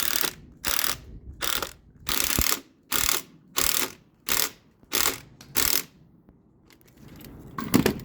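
A ratchet drives a screw into sealant on a 2019 Allegro Red motorhome, giving eight to nine evenly spaced bursts of clicking, each about a third of a second long and close by, with no talking.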